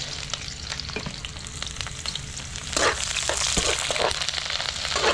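Chopped garlic and onion sizzle and fry in a hot pan, a steady crackle with occasional louder bursts as the pieces are stirred.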